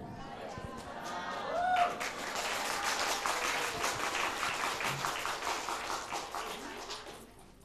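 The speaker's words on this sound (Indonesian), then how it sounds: "Boleh tepuk tangan dong untuk tim Rebana dari Al Amin" A crowd claps for a rebana frame-drum troupe from Al Amin on a Ramadan television programme: full, continuous applause that swells early then holds, with faint voices and chatter mixed in.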